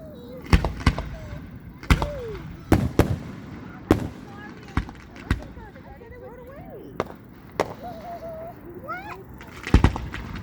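Fireworks at a June 2019 display burst one after another, sharp booms and crackles at irregular intervals, moderately distant, with whistling shells rising between them and people talking nearby.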